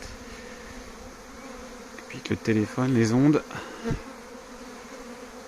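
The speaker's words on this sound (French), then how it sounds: "il y a plus d'abeilles" A steady swarm of honeybees hums throughout at an apiary in Santeny while a person speaks briefly in French in the middle.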